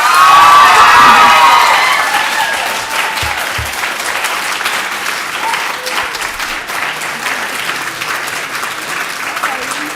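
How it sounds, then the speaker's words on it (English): Loud applause and cheering break out at a Fairfield city council meeting after a unanimous vote, a burst of many hands with some shouts that settles into steady clapping, with a voice briefly at the start. "You can clap now."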